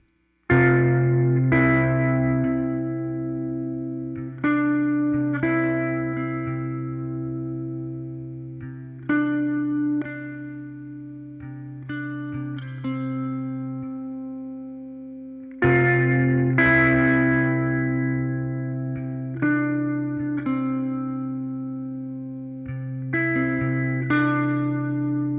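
Electric guitar played through an amp, likely a 1965 Gibson Scout, picking clean, ringing notes and chords that decay between phrases, with a short pattern repeated partway through, alone and fairly close.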